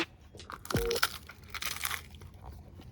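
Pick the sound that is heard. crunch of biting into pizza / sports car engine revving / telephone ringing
crunch of biting into pizza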